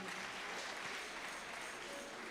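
A church congregation at a PCEA Kangemi Parish Sunday Brigade Kikuyu service applauds the teachers, a dense, fairly distant wash of many hands clapping steadily throughout.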